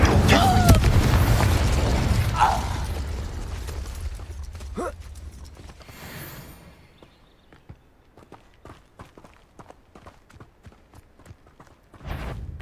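Fire spell explosions from the Hogwarts Legacy video game: a loud, rumbling boom with crackling opens the clip, then fades over several seconds into faint footsteps and clicks, with a brief renewed burst at the end.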